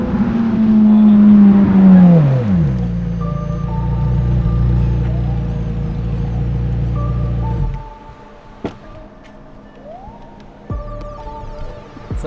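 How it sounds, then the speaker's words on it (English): A competitor's supercar pulls up for a drag race between a McLaren 720S, a Ferrari 488 Pista and a Ferrari F8 Tributo, its engine loud and near, dropping in pitch as it slows, settling into a low idle and then cutting off. "it sounds like your competitor's pulling up right now"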